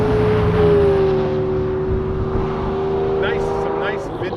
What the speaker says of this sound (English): some nice vintage Porsches there. They sound so great. That air-cooled flat 6.